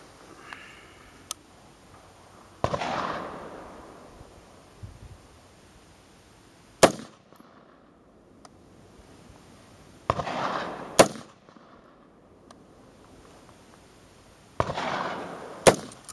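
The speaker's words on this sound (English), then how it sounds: "fired a couple rounds off from the prone position with the One Up Design Lab Magpod on the Magpul PMAGs" Rifle shots fired from the prone position using a magazine fitted with a Magpod base on a Magpul PMAG, outdoors: four sharp, loud reports spaced several seconds apart, each with a trailing echo and no talk.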